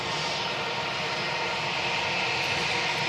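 British Airways jet airliner vacating the runway at Manchester Airport, a continuous loud engine roar with high whining tones, steady and close with no talk over it.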